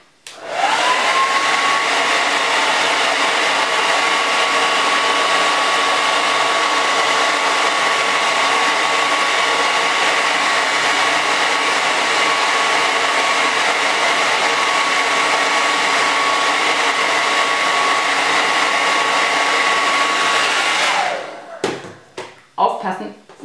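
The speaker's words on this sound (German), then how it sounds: "Jetzt mache ich mit dem Föhn einfach meine Wachskügelchen heiß und putze sie dann runter." A hair dryer blows steadily and loudly for about twenty seconds, warming wax beads on a dyed Easter egg, its pitch holding constant before it switches off and a few light handling knocks follow.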